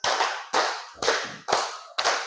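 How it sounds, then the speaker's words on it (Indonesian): Five crisp hand claps spaced evenly about half a second apart, close-up and clear with no talking. "Coba tepuk 5."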